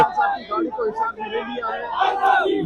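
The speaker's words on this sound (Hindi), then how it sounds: "सपोर्टर्स नारेबाजी भी कर रहे हैं, तालियां भी बजाई जा रही हैं उनकी जानिब से" Imran Khan's supporters chant slogans around his car at a court appearance, a loud, ragged crowd of raised voices rising and falling together, with no distinct clapping standing out.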